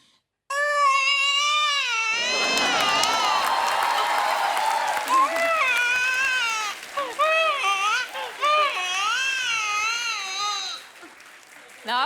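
A voice imitates a newborn baby's cry, with a long wavering wail followed by choppy, rising and falling sobbing cries, loud and close, on a comedy stage show with crowd reaction.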